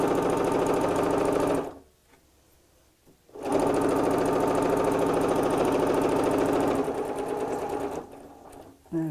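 A sewing machine stitches a tea cosy in two loud, rapid, steady runs, pausing briefly between them for a pivot, with a short burst at the very end.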